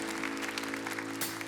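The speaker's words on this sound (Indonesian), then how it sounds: "Tepuk tangan buat Tuhan Yesus" Faint applause from a church worship congregation, rising under a sustained musical drone and steady hum, with a brief burst near the end.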